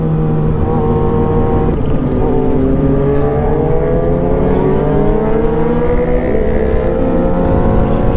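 A motorcycle engine revs loudly and close on a town street, its droning pitch climbing steadily as it pulls away, with no talk over it.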